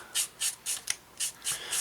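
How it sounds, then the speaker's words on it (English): Steady back-and-forth rasping strokes, about seven in a row with short pauses between, close up and fairly quiet, sandpaper worked over a small plastic part of a 1/48 scale model aircraft fuselage. "I just finished sanding this up"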